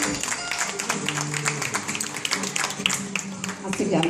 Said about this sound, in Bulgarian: Аплодисменти за всички деца.